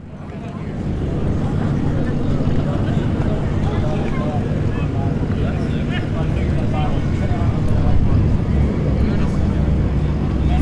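A diesel vehicle drag racing down the strip at a street test-and-tune night at Bradenton Motorsports Park, its loud, steady roar sustained for the whole stretch, with a broad rumbling, wind-blown quality.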